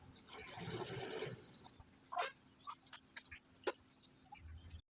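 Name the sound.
pouring tamarind broth into pot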